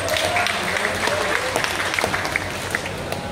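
Crowd at a Malaysian concert event applauds a rock band, a dense, steady wash of clapping that holds loud and even throughout with scattered sharper claps and a faint voice or two underneath.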